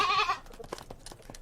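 A single short bleat from a mountain goat in a Rocky Mountain herd opens, followed by faint scattered rustling and soft movement noises at a distance.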